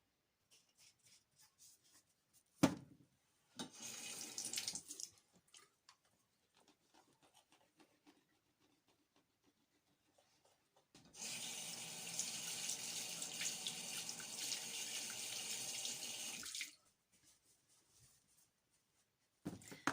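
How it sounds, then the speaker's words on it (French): A bathroom tap runs into the sink for several seconds during tooth rinsing, preceded by short bursts of water and small knocks, then stops; close and fairly quiet, with near silence around it. "je viens de rincer mes dents"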